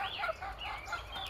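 About nine bantam chickens cluck and warble softly in overlapping calls, fairly close, with a quiet background.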